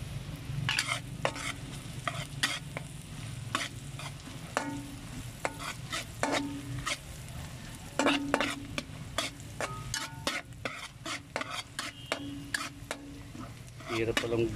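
Shrimp and scallops fry in a pan with a steady sizzle while a utensil stirs them, scraping and clacking in frequent sharp bursts throughout, close and fairly loud.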